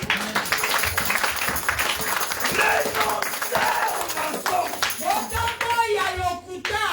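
A church congregation claps together to acclaim the risen Lord during a service, a dense, sustained patter of many hands with voices mixed in and a few louder cheers near the end.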